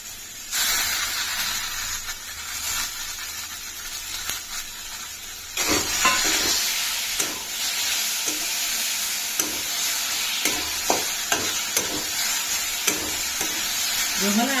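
Onion and tomato fry in a hot pan for baingan bharta, a steady sizzle with repeated scraping stirs and clicks of a spatula growing more frequent, no talking.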